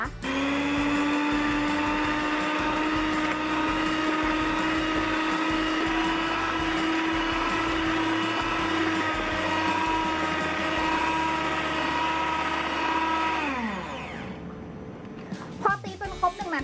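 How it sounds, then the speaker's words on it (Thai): An electric mixer beats cake batter at low speed, a steady motor whine that holds its pitch for about thirteen seconds before winding down and stopping, with a few clinks and knocks after it stops. "เราจะตีด้วยความเร็วต่ำหนึ่งนาทีนะคะ"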